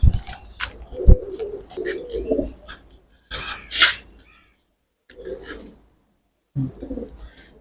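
Pigeons in a breeding room, including pure Aliwala birds, give low cooing and wing-rustling calls in short bursts, separated by brief silent gaps, fairly close by.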